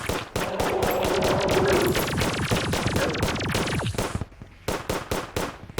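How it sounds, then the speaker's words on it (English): Rapid, dense bursts of shots from the Wall of Flesh boss in Terraria-style combat, a loud crackling barrage that runs nearly continuously before breaking into a few separate volleys at the end. "He starts super speed shooting these things."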